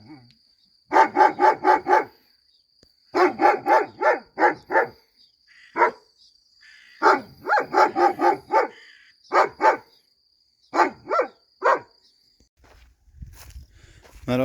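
Dogs on a farm in Erzincan bark in quick repeated bursts of four or five sharp barks separated by pauses, loud and near, with some single barks and faint movement near the end.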